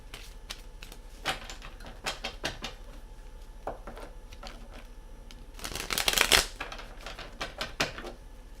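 Stiff tarot cards being shuffled by hand in a quiet room: scattered crisp snaps and flicks, then a dense riffling burst around the middle, followed by a few more sharp taps.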